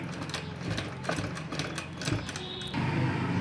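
A sewing machine stitches along the edges of a pocket on baby shorts, giving a quick, uneven run of close mechanical clatter that steadies into a denser whir near the end.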